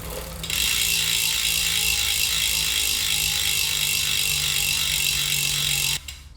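DT Swiss bicycle freehub with an 18-tooth ratchet, lightly greased, buzzing in a fast continuous loud clicking as the wheel spins freely for about five seconds before stopping abruptly.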